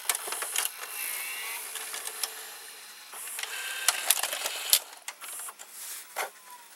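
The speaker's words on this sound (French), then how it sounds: "Alors, on va éjecter la cassette." A Sears VCR ejects a cassette, its capstan motor and tape carriage making a busy run of whirring, clicking and ratcheting mechanical noises, close and moderately quiet, ending with a few clunks.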